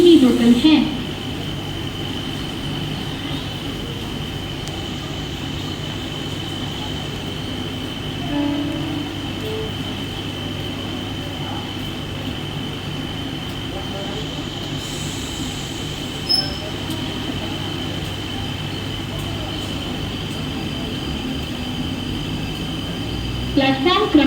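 A Mumbai slow local train stands at Diva station platform at night, its steady rumble and electrical hum continuing throughout with a faint squeal, under a platform announcement.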